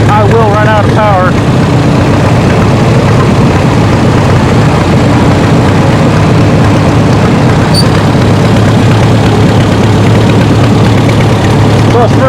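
A pulling tractor's engine roaring at wide-open throttle in first gear at a tractor pulling show, loud, steady and close throughout, with a brief higher whine near the start.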